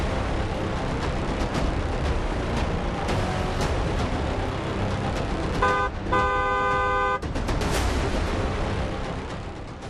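Dense traffic noise with a sustained car horn blaring for about a second and a half, surrounded by the steady roar of vehicles.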